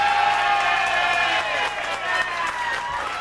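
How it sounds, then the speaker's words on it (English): Fishing tournament crowd applauding and cheering for award winners, a burst of clapping and whoops that swells and then tapers off briefly. "once again, applaud for Ross Benjamin Krabs."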